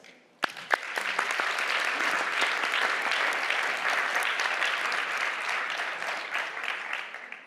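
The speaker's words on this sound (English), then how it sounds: "let's give them a proper round of applause" An audience at a debate event breaks into sustained clapping after a sharp opening hit, a dense, loud, even round of applause that tapers slightly at the end.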